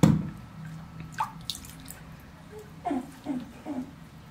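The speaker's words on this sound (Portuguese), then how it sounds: "Vou colocar agora um pouquinho de sabão aqui na água." Water drips and sloshes in a porcupine's bath as soap goes into the water, giving a few soft, close splashes and trickles spaced out over a quiet background.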